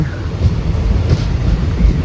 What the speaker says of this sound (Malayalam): നമ്മൾ ഇടപ്പള്ളി റെയിൽവേ സ്റ്റേഷനിലേക്ക് ഇങ്ങനെ വളഞ്ഞ് കയറുവാണ്.